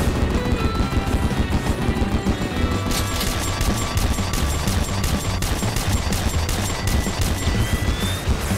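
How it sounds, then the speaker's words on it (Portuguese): Rapid bursts of laser-gun fire from the Nintendo Switch shooter Galaxy Champions TV, a dense run of zapping shots over game music and effects that grows busier partway through. "Esse laser gun é muito bom"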